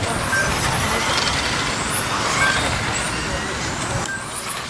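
1/10th scale electric RC touring cars race at the BRCA championship finals in Aldershot, a steady high whine of motors washing over the track as several cars pass, loud and continuous beneath race commentary.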